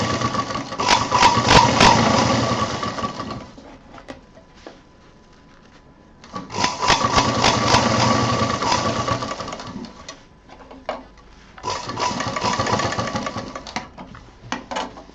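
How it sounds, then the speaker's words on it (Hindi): A sewing machine stitches fabric for a handbag, running loudly in three steady whirring bursts separated by short pauses with small clicks and handling noises. "उसके बाद उस पर कपड़ा को सिलाई करा दें"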